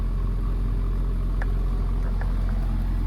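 A 2024 Toyota GR86 engine idles steadily with a low, constant rumble, joined by a few faint metallic ticks near the middle and end.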